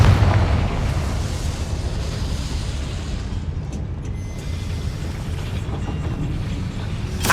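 A Confringo blasting spell detonates in the game Hogwarts Legacy, giving a rumbling explosive boom that fades into a sustained roar, with no speech over it.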